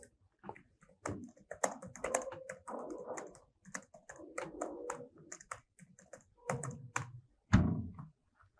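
Fingers tap out a prompt on a computer keyboard in quick irregular bursts of close, soft clicks and thunks, with short pauses between words and no talking.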